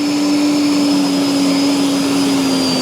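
An electric lawn dethatcher runs at full power with a loud, steady motor whine and a constant drone. It sounds close and unbroken throughout, and no one speaks.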